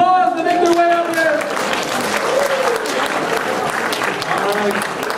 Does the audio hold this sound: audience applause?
yes